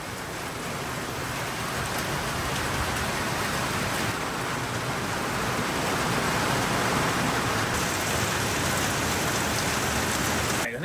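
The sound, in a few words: rain falling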